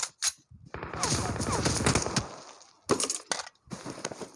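Bursts of automatic gunfire in a PUBG Mobile squad battle, several loud rattling volleys separated by short silences, with a sharp crack at the start.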